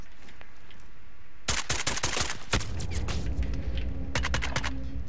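Rapid bursts of gunfire in Call of Duty: Modern Warfare, a dense cluster of shots mid-clip and a few sharp cracks near the end, loud and close over a steady game background.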